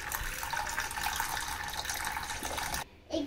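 Water runs steadily from a kitchen tap, a loud continuous close-up rush that cuts off abruptly near the end, followed by a brief splash or clatter.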